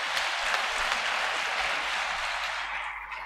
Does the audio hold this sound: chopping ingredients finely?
no